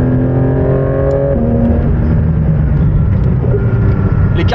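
Porsche 911 GT3 engine revving as heard from inside the cabin, a loud continuous drone with harmonics that drop as the revs fall and then rise again, filling the whole clip.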